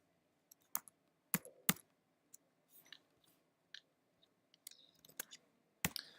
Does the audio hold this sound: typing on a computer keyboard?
yes